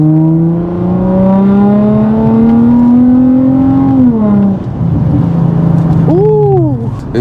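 An Infiniti G35 revs hard under acceleration, its engine note climbing steadily for about four seconds before dropping off, followed by a couple of quick throttle blips; loud and close, with no talking.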